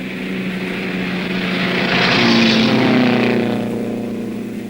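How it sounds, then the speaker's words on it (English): Vintage racing cars, a Maserati and a Bugatti at a 1960 VSCC race meeting, pass with a loud, steady engine drone that swells and fades over a few seconds, with no voices. "Scott's Maserati visited the pits misfiring badly, as did Neve's Bugatti"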